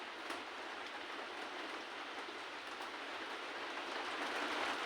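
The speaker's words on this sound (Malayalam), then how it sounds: "മഴയുണ്ട് കേട്ടോ, പുറത്ത് നല്ല മഴയുണ്ട്." Heavy rain falling outdoors, a steady broadband wash of drops that swells slightly louder toward the end, heard alone with no voices.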